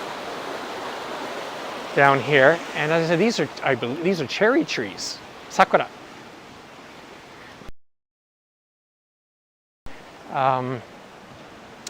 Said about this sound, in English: there's a nice bit of flowing water